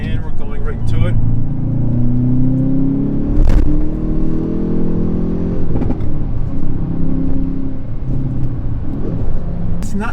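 A 2020 Hyundai Veloster N accelerating hard on a winding road, its engine droning and rising through the revs around a gear shift, heard loud from inside the cabin.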